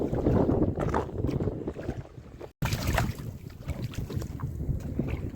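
Strong gusting wind roars steadily over an open fishing boat on a river as a Kalbaishakhi storm and rain approach, a loud, continuous rush with one brief dropout midway and no talk.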